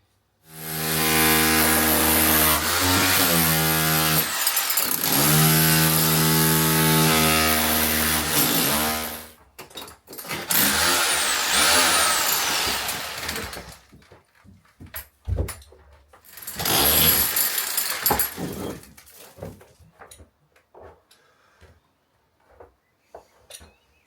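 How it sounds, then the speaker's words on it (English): An SDS hammer drill chisels bricks out of a chimney breast one at a time, a loud, harsh, steady hammering for about nine seconds, followed by shorter bursts of chipping separated by pauses and falling debris. "using the SDS to chip away and remove the bricks one at a time"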